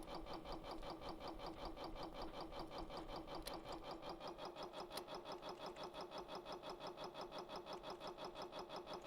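A small engine built in Stormworks runs at a steady idle, with a fast even chug that repeats without a break and stays close and level throughout.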